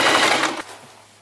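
A sewing machine stitches across a fabric pouch flap in a fast mechanical rattle up close, stopping abruptly after about half a second and leaving a faint hum.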